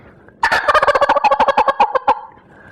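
A wild turkey lets out a loud, close gobble, a quick rattling burst of about two seconds that rises from near silence and then stops.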